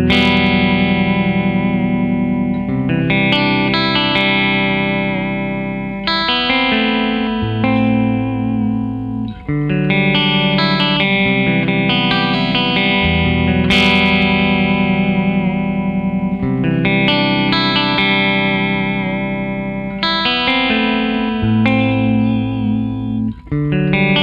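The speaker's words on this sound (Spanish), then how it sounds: "vamos a escuchar la segunda reamplificación" Electric guitar reamped through an Ohma World Condenser effects pedal, playing a continuous chord-driven passage with a heavily processed, distorted, echoing tone that runs loud and steady throughout, with no talking.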